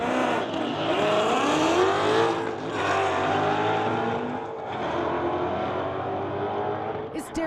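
Two Mustangs, one a 2015 model, launch side by side at a street-legal drag race, engines roaring and rising through the gears at a distance while an announcer talks over the strip.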